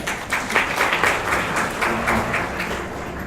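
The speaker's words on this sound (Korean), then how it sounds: "박수로 환영해 주세요" Audience applause welcoming a presenter at the final lightning talk of a 2018 conference session, a moderate, even patter of many hands clapping in a hall for a few seconds.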